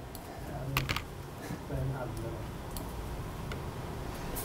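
Keystrokes on a computer keyboard tap out in irregular clusters of clicks during a lecture, with someone talking intermittently over the typing.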